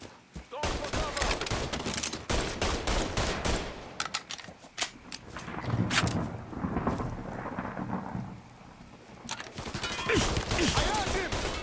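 Gunfire in the crime shooter Mafia III Definitive Edition, a dense, continuous stretch of shots and rumbling blasts that swells and fades, loud and close, with no voices standing out.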